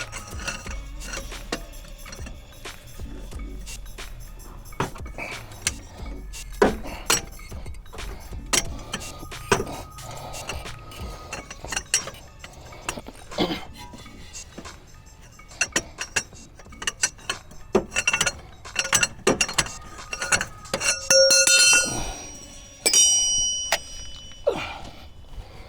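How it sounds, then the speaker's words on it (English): Wrench work on a lower control arm bolt of a 2006 Toyota Camry 3.3L, with repeated metallic clicks, ratcheting and clanks in irregular bursts, close by and moderately loud, with no talking. "Now we're going to break the second one loose."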